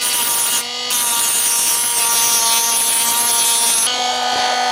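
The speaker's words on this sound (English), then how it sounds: "We're gonna go with good old fashioned cutting wheel." Cutting wheel grinding into an Insta360 camera lens, a continuous high-pitched whining drone held for several seconds with a brief dip, close and loud with no talking.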